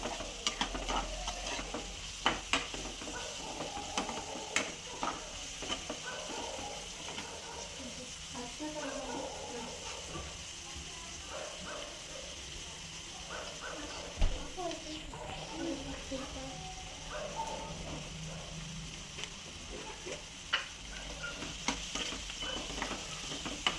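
Green chillies and onions sizzle and fry in a pan while being stirred, a continuous soft hiss with scraping strokes, as someone talks over the cooking.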